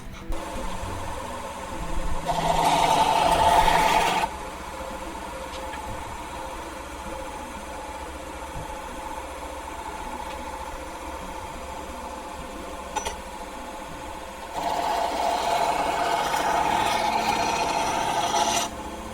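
A belt grinder with a coarse 36 grit belt grinds a knife blade in two loud, rasping bursts, a short one early and a longer one near the end, with a quieter steady motor hum running between them.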